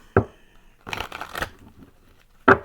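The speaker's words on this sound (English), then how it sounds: "I'm going to shuffle one more time because I don't like when that happens." Tarot cards being shuffled by hand, a short riffle burst near the start, a denser stretch of rustling and flicking in the middle, then one more sharp snap at the end, close and fairly loud with no talking.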